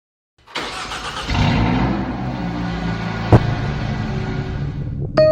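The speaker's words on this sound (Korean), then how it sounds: "5초 내에 엔진 시동을 거세요." A car engine in the 3D Driving Class driving-test game cranks and catches, then settles into a steady mid-pitched idle, with a short click partway through and a chime at the end.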